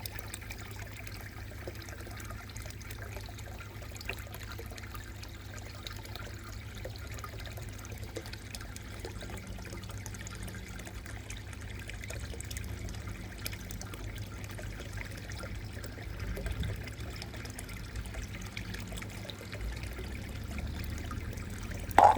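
Water flows and trickles through a pipe at a winter pond, a faint, continuous, even dribble that lasts throughout with no voices.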